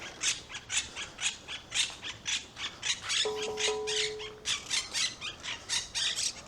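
Parakeets squawk in a rapid, repeated series of harsh calls throughout, loud and fairly close, at a seaside town in Spain, with a faint steady tone briefly in the background.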